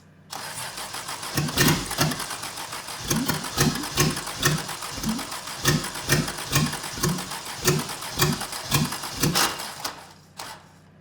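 A car engine cranks on its starter in a steady rhythmic churn of repeated pulses for about ten seconds without catching, then stops; the fuel pump may be failing.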